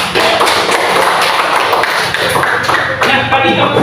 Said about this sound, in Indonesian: Sekali lagi mari kita beri aplaus.